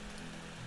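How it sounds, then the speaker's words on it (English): Rain falling in a brief stretch of steady, even hiss with a soft low rumble beneath, faint and continuous without distinct drops or voices. "Oh, it's raining too."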